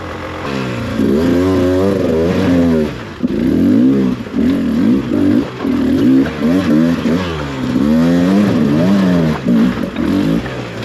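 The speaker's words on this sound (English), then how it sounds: "Oh, I can hear his bike." A dirt bike engine revs hard and close during a race at Wern Ddu Quarry, its pitch repeatedly climbing and falling through gear changes in a loud, continuous roar with brief dips between pulls.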